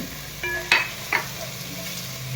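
Ingredients sautéed in a pan for Maharashtrian pavta (field bean) rice, a steady low sizzle with a few sharp scraping clicks of a spoon against the pan, close and alone.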